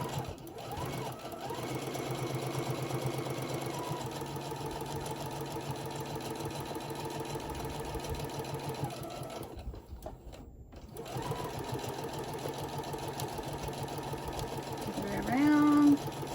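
Sewing machine running a long seam on a handmade teddy bear for a craft fair, a steady mechanical hum and rapid stitching that pauses briefly partway through and then resumes, with a voice talking over it.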